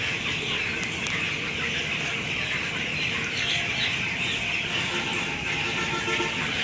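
A flock of 18-day-old farm chickens keeps up a dense, unbroken clucking and squawking chorus, near and even in loudness, with no voices over it.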